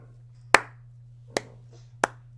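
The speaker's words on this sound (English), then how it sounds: "then you hear like a clapping." Three sharp, isolated claps land about a second apart, crisp and fairly close, over a low steady hum in an otherwise quiet room.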